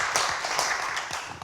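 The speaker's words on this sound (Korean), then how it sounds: "박종면 회장님과 광주시 지속가능발전협의회에 다시 한번 큰 박수 부탁드리겠습니다" A forum audience in Gwangju applauds with steady, dense clapping that fills the short stretch evenly at moderate loudness, with no voices over it.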